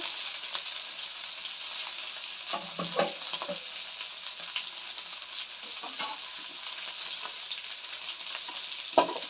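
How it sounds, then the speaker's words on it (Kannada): Ivy gourd (tondekai) pieces fry in hot oil for a Malnad-style rice bath, giving a steady, loud sizzling hiss with a few soft stirring knocks midway and a sharp clink near the end. No one speaks. "ಈ ರೀತಿ ಹಾಕಿ ಚೆನ್ನಾಗಿ ಎಣ್ಣೆಲಿ ಹುರ್ಕೊಬೇಕು"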